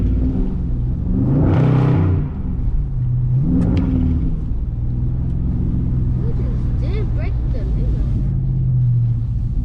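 Dodge Scat Pack engine revving hard while driving through a snowstorm, with deep rumbling surges of throttle rising and falling as the driver talks over the engine noise.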